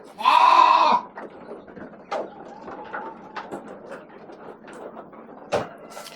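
A Dorper sheep in a farm pen lets out one loud, close bleat at the start, followed by quieter clattering and rustling pen noises with a sharp knock near the end.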